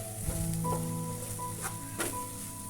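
Mushroom and chickpea curry with salt and chilli powder sizzles in a pan as a spoon stirs it, a continuous soft frying hiss with a few scraping strokes and low background hum.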